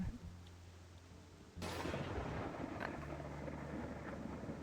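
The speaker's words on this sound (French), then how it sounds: "L'orage qui se rapproche." A thunderstorm closing in within the wolf game WolfQuest, heard as a sudden loud swell of broad rumbling noise that keeps rolling through the rest of the clip, with no talking over it.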